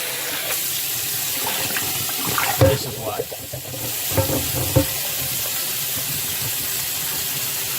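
Running water and scrubbing splashes in a cast iron pan washed with soapy water at a sink, steady and close, with a few clanks and a brief spoken phrase over it.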